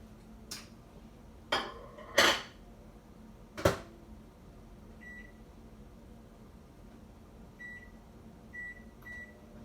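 A microwave oven hums steadily while heating a lunch of yams and turkey, broken by a few sharp clatters of dishes and a door, then several short quiet beeps near the end.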